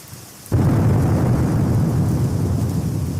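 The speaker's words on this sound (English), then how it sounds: "It is raining very hard outside today." After a quiet moment, a loud roar of heavy rain and rumbling thunder starts abruptly and continues steadily, with no one speaking.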